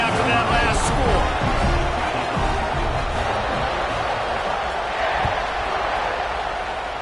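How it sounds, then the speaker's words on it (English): A packed American football stadium crowd buzzes loudly and steadily after a score and two-point conversion. Cheering swells near the start and a voice talks over the constant roar. "this crowd is buzzing after that last score"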